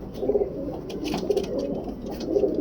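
A large male Imam Din pigeon coos up close in a Karachi pigeon loft, giving repeated, throaty, rolling phrases that rise and fall over a light background hum.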